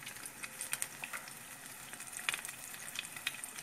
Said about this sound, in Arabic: تكسروا حبه تاع البيض لداخل فلانو، تخليوها تنضج